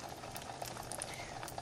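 Flour and egg coated chicken breast frying in a hot skillet, a dense, steady bubbling sizzle of oil with small crackling pops, close and continuous without speech.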